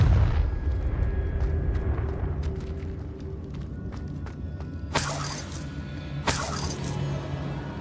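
A Confringo fire-blast spell from Hogwarts Legacy detonates as two sharp, bright explosive bursts over a dense rumbling game soundscape, with no voices during the blasts.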